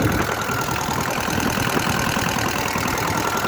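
The two-cylinder diesel engine of an IHI IS7GX3 mini excavator runs at a steady, close idle, a continuous low rumbling knock with no voices.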